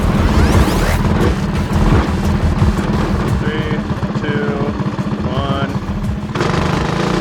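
A homemade go-kart's engine roars loud and steady while driving, its dense low rumble continuous throughout, with brief whoops and cheering voices rising over it.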